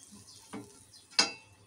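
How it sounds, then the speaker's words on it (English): Butter goes onto a hot grilling pan, giving two short faint sizzling bursts, the second one sharper and louder, against a quiet background. "And now we'll grease our grilling pan with some butter."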